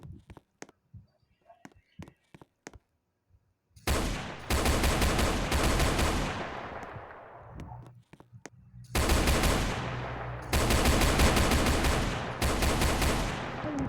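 Rapid automatic gunfire in the Roblox game Brookhaven comes in two long, loud bursts after a few sparse clicks and shots, with a short pause between them.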